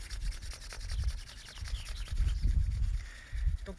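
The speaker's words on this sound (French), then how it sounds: "maintenant on se frotte les mains pour faire venir l'énergie au niveau des mains" Palms rubbed briskly together during a morning muscle and breathing warm-up session, a close, continuous swishing friction with rhythmic strokes and short pauses, and no one talking.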